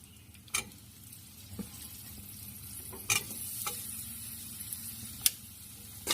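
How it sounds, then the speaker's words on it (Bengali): Dried shark fish fries with spices in a pan at a low, quiet sizzle, broken by a few sharp clicks and scrapes of stirring. "হাঙর মাছগুলোকে এখন আমি মশলাগুলোর সাথে ভাজতে থাকবো।"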